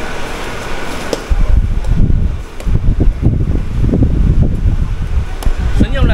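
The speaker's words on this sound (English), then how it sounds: "the wind in front, wow, you see the pail can fly" Strong wind blows outdoors at a durian spot, a loud, continuous rushing roar buffeting the microphone with gusty surges throughout.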